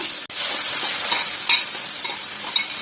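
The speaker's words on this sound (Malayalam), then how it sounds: "ചിക്കൻ വറുത്ത് കഴിഞ്ഞു. നമുക്ക് കോരിയെടുക്കാം." Fried chicken scooped out of hot oil while making chicken curry: a sharp clink of a utensil, then continuous close sizzling with scraping, stirring movements and small pops, no voices.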